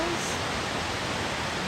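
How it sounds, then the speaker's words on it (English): Laurel Fork Falls on the Foothills Trail, heavy water pouring over in a steady broadband roar, close and continuous, with a voice speaking over it. "That is Laurel Fork Falls."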